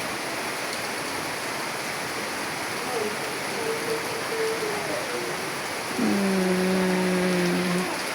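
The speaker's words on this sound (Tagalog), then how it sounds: "Sobrang lakas ng ulan." Heavy rain falls around a house surrounded by thick grass in Tuboran, a dense, steady roar from start to finish, with faint voices toward the end.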